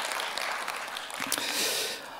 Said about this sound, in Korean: 우리 하나님께 존귀와 영광의 박수로 한번 올려드리겠습니다